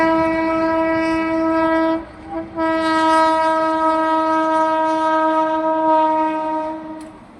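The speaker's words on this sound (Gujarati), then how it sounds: "જામનગરમાં રેલવે ફાટક બંધ છે, ટ્રેન આવી તમને બતાવું મિત્રો." A train passes a closed railway crossing in Jamnagar and sounds a long, loud, steady horn blast that breaks briefly after two seconds and then resumes, with wheels rumbling underneath and no talking.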